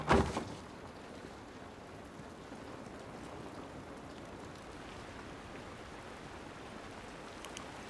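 Steady rain falls in an outdoor scene of the video game The Last of Us Remastered. It makes a faint, continuous hiss and patter with no voices, after a brief louder thump at the very start.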